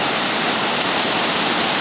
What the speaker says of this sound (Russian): Серия водопадов на подступах к верховью Ореховского водопада.